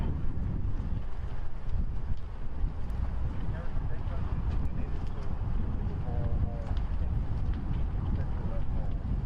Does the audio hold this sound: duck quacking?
no